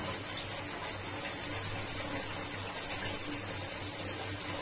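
Water with a spoonful each of cumin and black pepper boils steadily in a pot on the stove, a soft continuous bubbling hiss with no talk.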